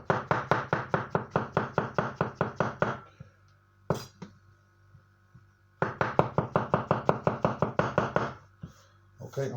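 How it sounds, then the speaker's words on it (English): A knife chops mushrooms on a cutting board in fast, even bursts of crisp close knocks, one run of about fifteen strokes, a pause with a single clack, then another rapid run. "I'm sure everybody out there can chop a mushroom."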